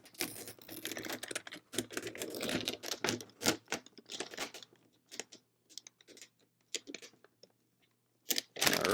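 Paper paint stencil for Ms. Pac-Man arcade cabinet artwork torn by hand in short crisp ripping bursts, irregular and close, with quiet pauses between tears.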